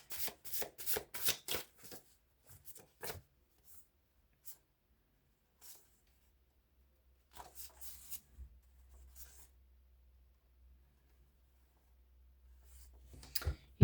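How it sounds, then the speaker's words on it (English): Tarot cards are shuffled and handled close up in a quiet room, a quick run of crisp riffling bursts at the start, then scattered soft card slides and taps with long pauses between them. "Oh, these cards are so hard to work with."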